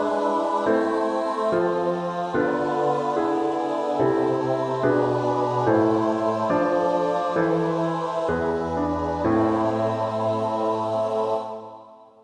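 A mixed choir of soprano, alto, tenor and bass sings a slow four-part chord progression, each sustained chord changing in steady succession before the final chord fades out.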